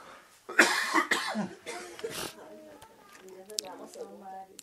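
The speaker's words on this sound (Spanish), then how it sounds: "hasta me dio la tos" A couple of sharp, close coughs followed by a throat clearing, then a voice briefly speaking Spanish, during a church sermon.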